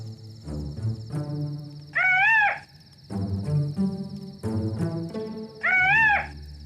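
A man whistles a bird call, an imitation of a bird in a wooded outdoor setting, in rising warbling bursts repeated twice amid ongoing talk from other people.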